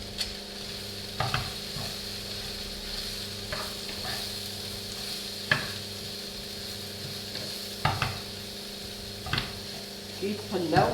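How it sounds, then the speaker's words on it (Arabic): Eggplant sizzles in hot oil in a pan with pepper, a constant bubbling hiss broken by periodic clicks and scrapes of stirring while a person talks over it. "نخلوهم يتقلاو"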